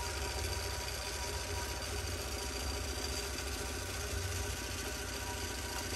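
A longarm quilting machine stitches couching thread down onto a quilt with a steady, continuous mechanical hum and rapid needle chatter, close and even throughout.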